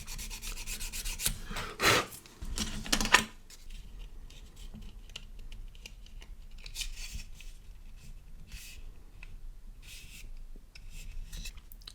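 Parts of an Airfix 1/48 Bristol Bulldog plastic model kit are scraped and sanded at their mating surfaces in short, close rubbing strokes. A louder burst comes early, followed by quieter intermittent scratching.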